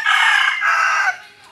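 A rooster crows close and loud at a staycation camp, a single hoarse two-part call lasting about a second before cutting off.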